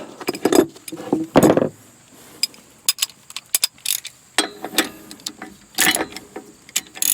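A wrench works the wheel bearing nut on an RV axle, giving scattered metallic clicks, ratcheting taps and clinks in irregular bursts, close by, with quiet gaps between them.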